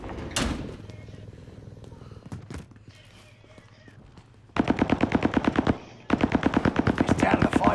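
Rapid bursts of automatic gunfire from a Call of Duty Warzone match crackle loudly, with a short blast early on and then two long sustained volleys near the end, mixed with game clatter and a voice speaking.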